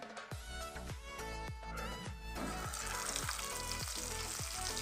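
Breaded pomfret fish sizzles steadily in hot oil, a dense continuous crackle with a run of rhythmic low thumps, like background music beats, repeating through it, and no voices.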